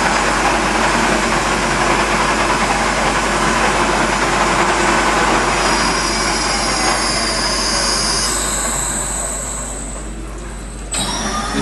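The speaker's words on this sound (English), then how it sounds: "center hole has now been drilled, whereafter it will be followed by the necessary drill bit" A center drill bores a starting indentation into a workpiece on a heavy machine-shop drill, a loud continuous grinding whine with a deep motor rumble, easing off near the end.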